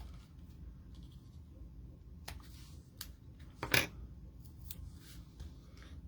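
Scissors cut a paper craft piece from a June 2023 Paper Pumpkin kit, giving a few faint snips with one sharper close cut in the middle, over a quiet room background.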